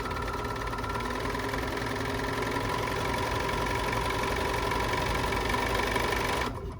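BERNINA 4, 5 or 7 Series sewing machine stitching steadily for several seconds, a loud, close, rapid mechanical whir that stops abruptly at the end.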